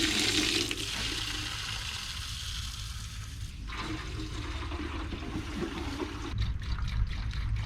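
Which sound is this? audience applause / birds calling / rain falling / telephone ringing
rain falling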